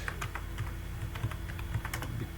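Rapid, steady typing on a computer keyboard, close and clear, with quick uneven key clicks running throughout and no voices.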